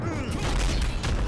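A brief burst of explosion sound in the fighting game Shadow Fight Arena, a dense booming blast with crackling debris lasting about a second, loud and close.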